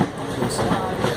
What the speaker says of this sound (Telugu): ట్రైన్లో గోవా నుంచి హైదరాబాద్కి వెళ్తుంటే దూద్ సాగర్ వాటర్ఫాల్స్ వచ్చాయి